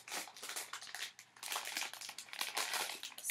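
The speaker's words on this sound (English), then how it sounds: "I am going to be doing a candy color sorting video" Wild berry Skittles handled close up during candy color sorting, busy crinkling and rustling bursts with quick clicks of small candies, continuous and soft, no talking.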